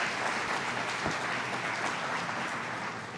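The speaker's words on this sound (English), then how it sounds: "You can give yourself a round of applause." Audience at a groundbreaking ceremony applauding, a continuous wash of clapping heard quietly and at some distance, steady throughout with no voices rising above it.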